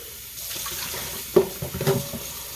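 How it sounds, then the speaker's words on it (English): Cold tap water runs into a sink, a quiet steady stream that rises briefly with a few louder splashes near the end. "I'll run some water in that."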